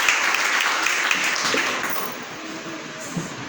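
Applause from an audience at an indoor sales seminar, steady dense clapping that holds for a few seconds and then slowly thins out.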